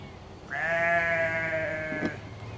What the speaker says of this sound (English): Sheep's trying to eat my paint. Silly sheep.